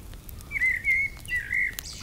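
Clear bird chirps repeat in short whistled phrases over a soft, steady background hiss of a crackling fire in the evening, with no talking.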